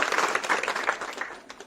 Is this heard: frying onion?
no